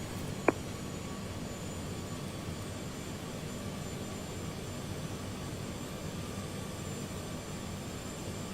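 An Airbus A330 in Aer Lingus livery in Microsoft Flight Simulator gives off a steady jet engine drone and hiss on approach to London Heathrow, constant and even throughout, with a single short click near the start.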